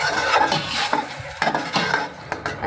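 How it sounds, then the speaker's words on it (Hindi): Onions frying in half a cup of oil while being stirred, busy sizzling mixed with clinks and scrapes of a utensil against the pot, close up with no speech. "हाफ कप ऑयल ऐड करेंगे और इसमें डाल देंगे प्याज। प्याज को हम 2 से 3 मिनट तक फ्राई करेंगे।"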